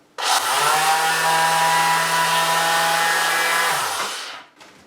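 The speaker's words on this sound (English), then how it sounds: "take my power sander" A handheld power sander whirs at a steady high pitch for about four seconds smoothing a freshly cut edge, then winds down and stops.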